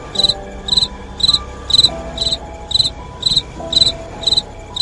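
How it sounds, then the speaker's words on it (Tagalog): Crickets chirp outside at night in a steady, evenly spaced rhythm, about two bursts per second, clear and close against a quiet background hum. "nakakakalma ang tunog ng mga dahon at kuliglig sa labas"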